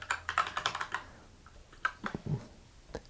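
Typing on a computer keyboard for a spreadsheet formula, with a quick run of clicky keystrokes followed by a few scattered, sparser taps, close and fairly quiet.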